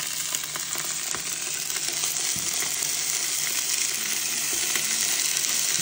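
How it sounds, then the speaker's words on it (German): Steady, crackling sizzle of corn-fed chicken pieces frying in hot oil, close and continuous, with a few faint clinks of a utensil against the pan. "Das tun wir jetzt anbraten."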